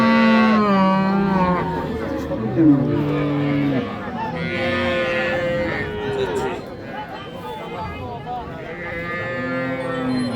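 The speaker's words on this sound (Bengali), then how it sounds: "এই যে একটা এত সুন্দর গাভী হাঁটা আসে দেখে" Friesian cows low at a busy cattle market in Raniganj, Dinajpur, with long, loud, drawn-out moos that carry on over a continuous backdrop of crowd chatter and livestock noise.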